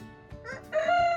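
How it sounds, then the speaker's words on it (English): A rooster crows in a garden, one loud, drawn-out cry that swells and holds to the end, following a few softer squawky bursts with no talk over it. "That rooster that's crowing, he's so funny."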